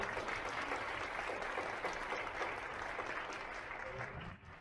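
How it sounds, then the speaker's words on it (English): Sustained audience applause at a women's conference and forum, a dense steady wash of many hands clapping that holds throughout and dips slightly at the very end, with no talk over it. "Another round of applause, please."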